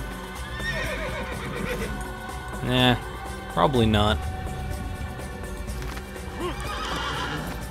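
A horse in the Assassin's Creed video game neighs in two loud whinnies over a steady clip-clop of galloping hooves, with someone talking briefly over it.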